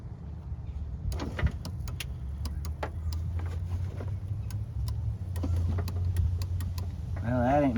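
The power window regulator motor of a 1991 Buick LeSabre whirs in a low, steady hum throughout. Scattered clicks and knocks sit over it, and a person talks near the end.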